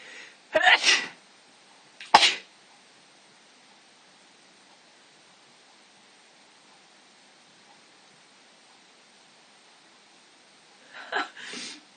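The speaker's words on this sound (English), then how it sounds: "I need to sneeze" Two sharp sneezes close together near the start, a long quiet stretch, then another softer sneeze burst at the end.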